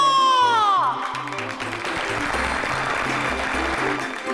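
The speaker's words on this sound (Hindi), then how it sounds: "इस बात पे जोरदार तालियां।" Loud applause at a sangeet celebration in a TV drama, beginning under a falling musical sting and a rhythmic beat, then continuing as a thick, steady roar of clapping.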